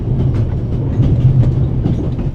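A train rolls along the rails in the video game The Raven: Legacy of a Master Thief, a loud steady rumble with a rhythmic clatter of wheels and no speech.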